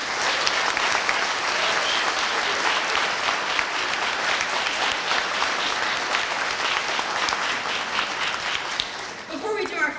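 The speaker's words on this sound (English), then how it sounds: "Can we give another applause to our seniors?" Audience at a high school band concert applauding the seniors, a long sustained wash of many hands clapping, fairly even and full, tapering at the end as a voice begins.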